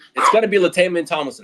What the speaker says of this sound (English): So excuse my dog